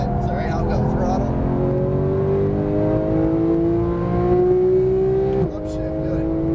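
A Porsche GT3 of the 991 generation accelerates hard on track, its engine note climbing steadily and loud. A brief dip near the end marks a gearshift before the pull resumes.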